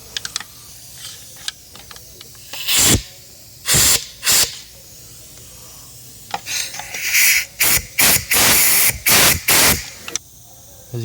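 Short blasts of compressed air blow debris off spark plug bolt heads on a Lexus IS250 engine, loud close hissing bursts in an irregular series, sparse at first and then rapid near the end.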